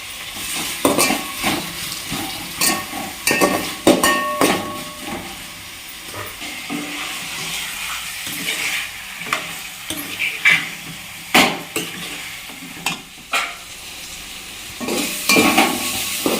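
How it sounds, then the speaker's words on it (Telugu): Tomatoes cook in a pan for chicken curry with mint and coriander, sizzling steadily while a spoon stirs and scrapes in repeated bursts against the pan, close and fairly loud, with no talking. "టమాటాలు ఇంకా కొంచెం మగ్గాలి, పచ్చి వస్తాయి"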